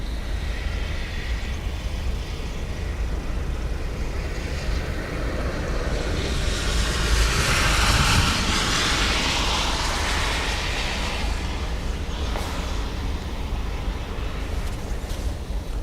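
A Turkish Airlines airliner comes in to land on runway 28 at Dublin Airport, its steady broadband jet roar swelling to a peak midway, heard loud and fairly close without talk.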